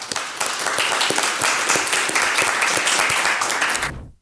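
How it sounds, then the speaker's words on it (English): Audience applause for a founder stepping up to pitch, sustained close clapping for about four seconds before cutting off abruptly. "Round of applause"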